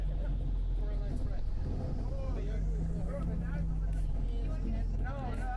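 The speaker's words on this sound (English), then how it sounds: "Sorry if the bus noise." Low rumble of a city bus passing outside in downtown Toronto, a steady droning engine noise that runs under continuous talk from a person speaking nearby.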